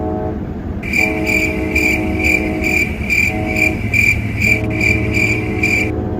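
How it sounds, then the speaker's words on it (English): A train passing nearby at loud, close range: a low rumble carries a rapid, evenly pulsed high ringing tone that repeats for about five seconds, with no voices. "Okay, it's the train."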